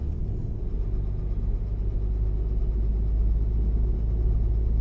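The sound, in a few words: truck engine in Euro Truck Simulator 2 video game, Zeemods sound mod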